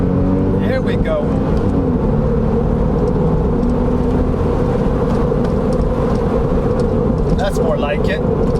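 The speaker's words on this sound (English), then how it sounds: "This car loves to be opened up, loves to rev to the rev limiter." Porsche 996 C4S engine revving under load while driving on smooth, bendy roads after two years in a garage, a loud steady mechanical drone with someone talking over it.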